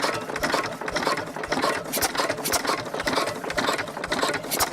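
Small stationary gas engine idling under governor control, firing only every fourth or fifth revolution; a steady, rapid mechanical clatter runs continuously and fairly close, with no talk over it.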